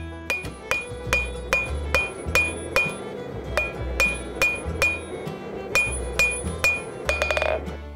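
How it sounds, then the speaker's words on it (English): A blacksmith's hammer strikes a hot forged steel leaf on an anvil, shaping each side with the heel and toe of the hammer: about a dozen bright ringing blows in a steady rhythm, close and clear, ending in a quick flurry of lighter taps. "I used the heel and toe of my hammer to shape each side of the leaf."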